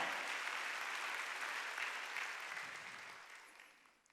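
A church congregation claps together during a Korean Wednesday worship service, a dense, steady wash of applause that fills the room and gradually fades toward the end.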